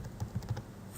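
A few quick, soft keystrokes on a computer keyboard while entering a command in AutoCAD, muted and close, lasting under a second.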